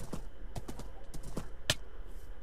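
Horse hooves clip-clopping in Minecraft 1.7.4, a run of about seven sharp, uneven knocks at a fairly close, moderate level, with no voices over them and only a faint steady hiss underneath.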